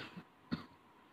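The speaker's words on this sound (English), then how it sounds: "One of these days I'll be able to say that without coughing." A single sharp cough, close and fairly quiet, with a faint throat sound just before it and near silence otherwise.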